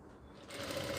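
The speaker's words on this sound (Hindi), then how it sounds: "अब ये देखिए इसको ऐसे सिलाई लगा लेंगे।" A sewing machine stitches a collared kurti, starting as a faint mechanical hum and then running in a brief, steady whir.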